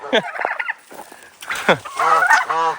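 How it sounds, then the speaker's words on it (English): Turkeys gobble close by on a farm, several rapid warbling bursts with other fowl calls mixed in, loud and fairly near. "Everywhere I go around here, the turkeys show up."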